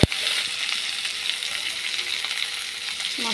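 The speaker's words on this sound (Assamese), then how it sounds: "মাছ ভাজিছিলোঁ যে তেলখনতে পিঁয়াজ আৰু জলকীয়া দি দিলোঁ।" Onion and green chili sizzle in leftover fish-frying oil with a bay leaf, a steady, close, bright frying hiss with small crackles throughout and no talking.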